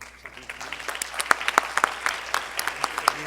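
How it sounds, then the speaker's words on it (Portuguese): Applause at a plenary session, a scattered round of clapping with distinct sharp claps standing out over a softer crowd bed, with some talk mixed in underneath. "Salva de palmas."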